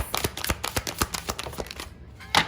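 Rapid crisp riffling of playing cards being shuffled, a quick run of flutters ending in a sharper snap near the end.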